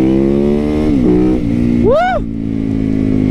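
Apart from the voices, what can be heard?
supermoto motorcycle engine revving while riding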